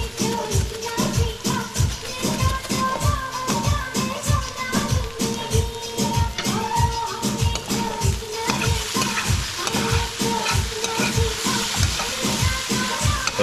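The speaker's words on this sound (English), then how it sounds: "So we're gonna fry this up nice." Okra and saltfish with pepper seed and pepper flakes frying in a pan, a steady sizzle broken by a fast, regular run of scraping stir strokes from start to finish, close and fairly loud, with no talk.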